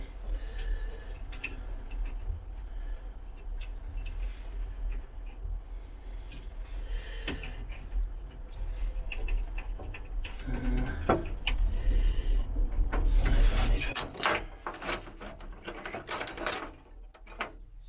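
A spanner nips up the compression fittings on a fuel line while an electric fuel pump is fitted, giving scattered metallic ratcheting clicks and taps against low mechanical rumble, busier and louder toward the end.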